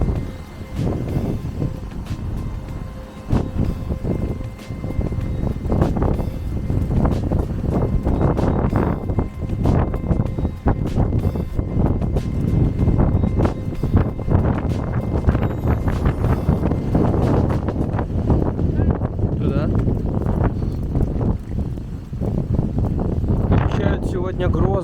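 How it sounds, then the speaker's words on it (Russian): Strong, gusty autumn wind in Krasnodar roars and buffets the microphone continuously with heavy rumbling noise, while people talk over it throughout. "Очень быстро испортилась погода и сильный ветер."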